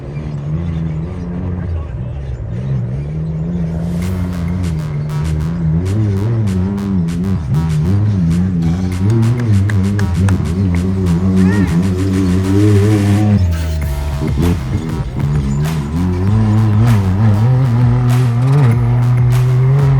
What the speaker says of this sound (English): check out some of the racers in the UTV championship race